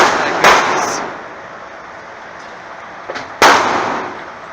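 Two loud, sharp gunshots from a Magnum Research Desert Eagle pistol, roughly three seconds apart, with quieter background noise between the blasts.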